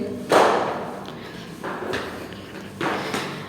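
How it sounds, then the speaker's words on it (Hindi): Footsteps climbing stairs late at night in a quiet house, three heavy thuds spaced about a second apart, close by and with no talk. "मेरे स्टेप्स की आवाज़ तो आप सुन ही रहे होंगे"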